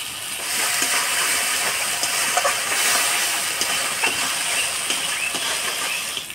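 Steady broadband hiss of steam as water is added to a hot pan of mustard-poppy paste, close and continuous with faint small crackles.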